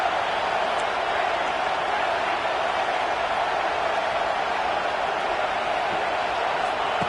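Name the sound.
football stadium crowd noise on third down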